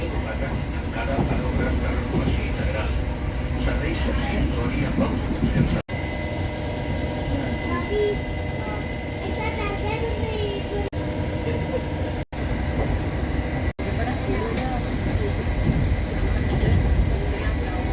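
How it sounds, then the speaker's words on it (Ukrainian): Steady rumble and rattle inside a moving suburban electric train near Barcelona, a continuous rolling drone with occasional clacks and brief dips. "Приміська електричка, якою ми їдемо."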